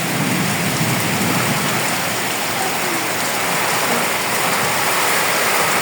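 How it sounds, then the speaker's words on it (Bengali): Heavy rain pours steadily during a violent nor'wester (Kalbaishakhi) storm, a loud, dense, continuous wash of falling water with no break and no voices. "আল্লাহ, আবারও বৃষ্টি পড়তেছে"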